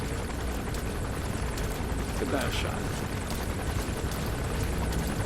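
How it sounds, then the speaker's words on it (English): Helicopter hovering overhead in the Metal Gear Solid V video game, a steady loud rotor drone filling the whole scene while a person talks over it. "The only problem is that helicopter above my head."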